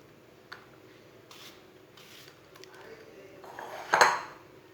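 A knife finely chops unpeeled apples on a board, giving a few sparse, quiet taps, then a louder clattering knock near the end.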